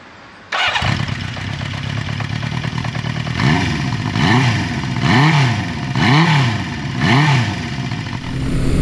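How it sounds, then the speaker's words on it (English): A 1975 Honda CB550 F Super Sport fires up with a sudden start, settles into a close, rumbling four-cylinder idle, then revs in several rising and falling swells as it is ridden away. "I am currently riding Honda's 1975 CB550."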